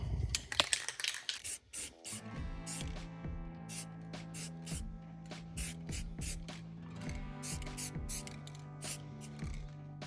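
Short bursts of high heat spray paint from an aerosol can hiss onto a scuffed motorcycle exhaust, repeated hisses of varying length with the can's rattle and scrapes between them, close and fairly quiet.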